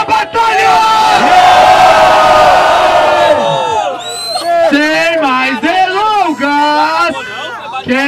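Loud crowd roars and cheers at a rap battle final, a dense wall of shouting for about three seconds, then breaking into scattered whoops and yells as a voice calls out over the fading noise.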